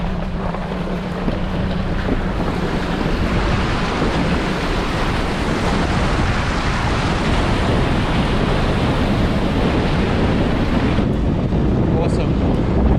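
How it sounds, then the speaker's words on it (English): A four-wheel drive vehicle fords a small river on a Cape York track, a loud continuous wash of water and engine rumble heard from inside with heavy wind buffeting on the microphone throughout. "First little river crossing"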